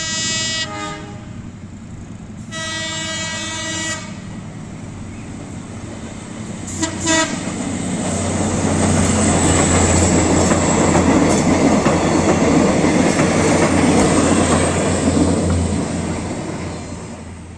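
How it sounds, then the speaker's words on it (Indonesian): A feeder train for the high-speed railway passes through a station in Indonesia, bound for Padalarang: loud horn toots at the start, then a rising rumble and clatter of cars rolling by close at hand. "di jalur 5 akan melintas kereta api feeder kereta cepat dengan tujuan akhir yang sama, yaitu stasiun Padalarang"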